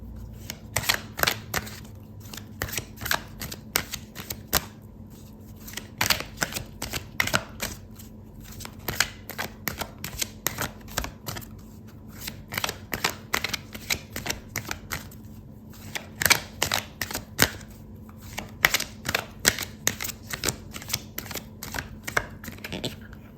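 Tarot cards being shuffled by hand, a steady run of quick papery riffles and flicks close up, continuing with brief pauses and no talking.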